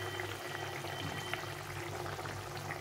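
Fried egg pieces go into a curry gravy simmering in a pan, giving a steady bubbling, sizzling boil that stays even and fairly close throughout, with no voices.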